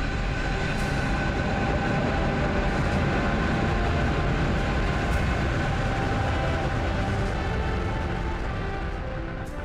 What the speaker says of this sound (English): Falcon 9 lifted off at 7:57 Universal Time on February 2nd from the LC-39A ramp at the Kennedy Space Center in Florida.